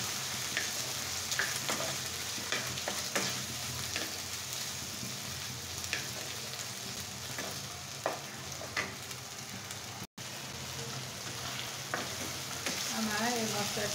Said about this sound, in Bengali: এখন আমি এটাকে খুব সুন্দর করে 2 মিনিটের জন্য ভেজে নেব।